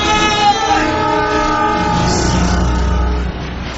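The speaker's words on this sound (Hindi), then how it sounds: "ट्रेन आ रही है, ट्रैक से हट जा मेरे दोस्त!" A train approaches along the track in a Hindi horror audio drama set near a hostel, a loud sustained rumble with a horn-like tonal blare running continuously throughout.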